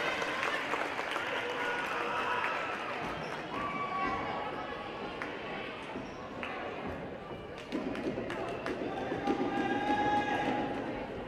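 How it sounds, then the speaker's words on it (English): A raucous crowd in a high school gym cheers through a girls' volleyball senior night between McFarland and Jefferson, a continuous roar of voices and clapping with scattered shouts and squeaks rising and falling. "Have a raucous crowd over there tonight."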